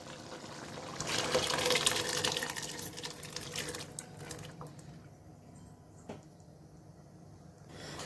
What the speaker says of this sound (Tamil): நம்ம இப்போ வேக வச்சு வச்சுருந்த தட்டைப்பயிரை தண்ணியோடு ஆட் பண்ணிக்கலாம்.